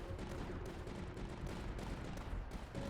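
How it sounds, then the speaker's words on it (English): Cannons fire steadily in the Tower Dominion strategy game, a dense rumbling barrage of booming shots running without pause over a continuous battle din. "they're being shot at by two blessed cannons"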